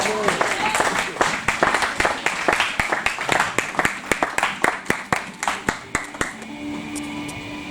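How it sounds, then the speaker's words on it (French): Church congregation applauding the Lord, with dense rhythmic clapping that gradually settles into a steady beat and then fades, heard in a large room with voices mixed in. "Est-ce que quelqu'un peut acclamer le Seigneur?"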